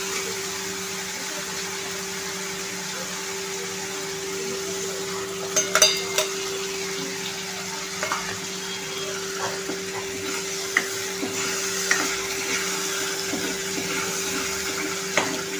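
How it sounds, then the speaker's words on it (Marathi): Tomato paste sizzles steadily in hot oil in a masala paste, with occasional clinks and scrapes from a spoon stirring it in the pan, close and moderately loud without talk. "आता ही पेस्ट परततीये"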